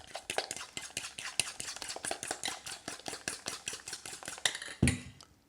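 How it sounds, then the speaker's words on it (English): Egg and grated parmigiano cheese mixed in a bowl with a utensil, giving a steady series of quick, close clinking and scraping strokes in an even rhythm, ending with one heavier knock. "we just mix this egg and cheese together"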